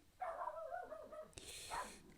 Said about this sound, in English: he wasn't barking like my dog is barking